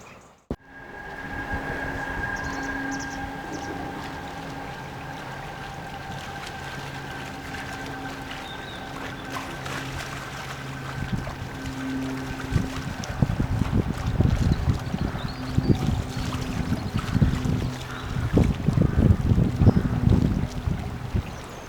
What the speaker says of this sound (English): Just had two boats go through in quick succession.